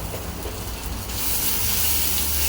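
Potatoes with green chilli, coriander and ginger frying in oil for barnyard millet khichdi, a steady hissing sizzle that swells louder midway, with no voices.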